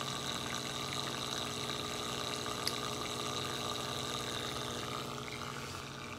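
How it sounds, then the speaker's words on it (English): An aquaponics education kit's pump and micro siphon drain water from a grow bucket into a fish tank, making a steady, even gurgling and trickling hum that continues without break at moderate, close volume. "the siphon starts and all the water in the grow bucket will get drained into the fish tank"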